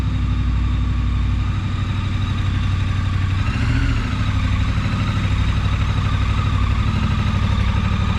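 A brand-new motorcycle's engine idles steadily while warming up, a loud, continuous low rumble with an even throb that holds unchanged, apart from a slight dip, throughout.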